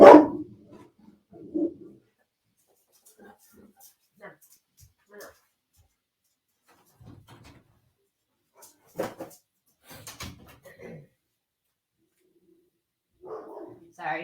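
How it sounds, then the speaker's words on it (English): A loud household dog barks at people passing the window, a few sharp barks near the start and again later, separated by quieter stretches with scattered movement and a voice speaking. "She can be a really loud dog, and she likes to bark at everybody that goes in the window."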